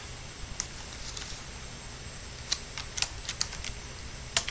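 Faint, scattered plastic clicks as keys on an Acer Aspire One Intel Atom netbook keyboard are pried up and handled during a 1 GB RAM install, a few sharper taps standing out from a quiet background.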